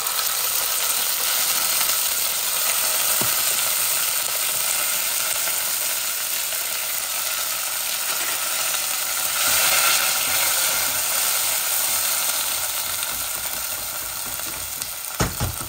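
Onions sizzle and crackle as they fry with cumin seeds and bay leaves in hot oil, a steady, close, loud hiss with faint stirring clicks throughout, no voices.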